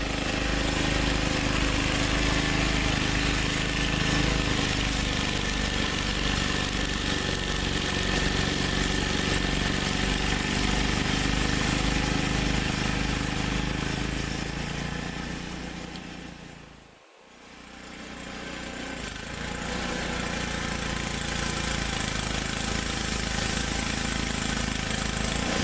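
A 1989 MTD 524 two-stage snowblower's 5-horsepower engine runs steadily under heavy, soupy old snow, loud and close for a long stretch, briefly dipping away before the drone returns.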